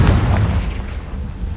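A Confringo spell explodes in Hogwarts Legacy, giving a single heavy, booming blast that hits at the start and rumbles away over about a second and a half.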